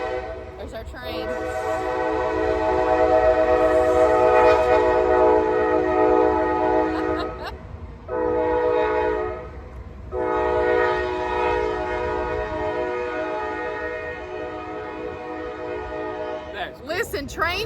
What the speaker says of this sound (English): Here's right the train coming through.